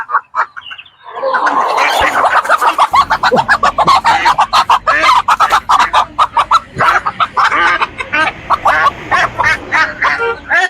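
A loud, close chorus of Silkie chickens and other poultry at a market, with dense overlapping clucks, squawks and quacking-like calls in rapid bursts; no talking.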